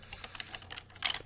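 Rapid typing on a computer keyboard, a steady run of light clicks that builds to a louder flurry of keystrokes near the end, with no voices.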